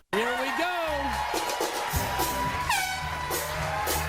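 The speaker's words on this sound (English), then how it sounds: "the air horn was a little bit late" A loud, sustained air horn blares to start a race on a TV talk show set, holding a steady tone under lively speech and crowd noise.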